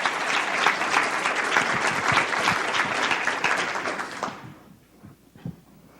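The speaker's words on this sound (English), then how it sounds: "So another round of applause for Kevin" Applause from a university faculty assembly for a departing president, a thick round of clapping that holds steady then fades out quickly near the end, leaving a few scattered claps and quiet room noise.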